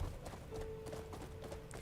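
Horse hooves clip-clop in a steady walking rhythm in the video game Crimson Desert, faint and even beneath low ambient game sound.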